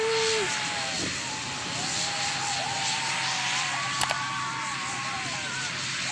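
A steady roar of an airplane engine fills the whole stretch, a sustained whine with shifting tones as the aircraft lands at Rar Gwamar airport in Dobo, Indonesia, plus a brief click near the end.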